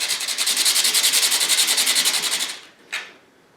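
Coarse sandpaper rubbed rapidly by hand on a gun barrel while fitting a muzzle brake, a close, loud rhythmic rasp of quick even strokes for about two and a half seconds, then one short final scrape.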